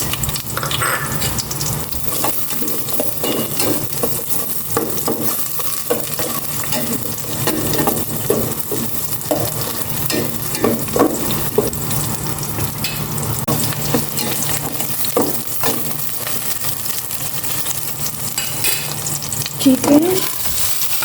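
Sliced onions sizzle steadily in a hot pan, with frequent scraping stir strokes over the constant frying hiss, close and loud throughout.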